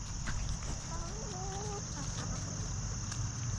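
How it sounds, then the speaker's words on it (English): Chickens in a backyard chicken run give a few soft clucks and short calls over steady outdoor noise with insect-like hiss, faint and somewhat distant. "So this is our chicken run with our birdies."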